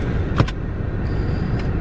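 Interior of a moving car in the Solomon Islands: a steady low road and engine hum fills the cabin, with a couple of short, faint clicks or rattles over it.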